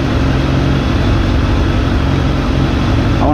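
A Suzuki GSF600 motorcycle idling during a vacuum leak test, a steady, loud, continuous low rumble that stays even and unbroken throughout.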